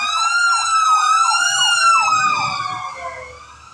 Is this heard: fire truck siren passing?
yes